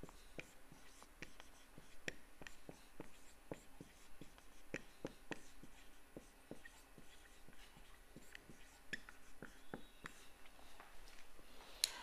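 Pen or chalk writing an equation during an engineering lecture on momentum conservation: a steady run of faint, quick scratching strokes and taps, close and alone, with low room hiss.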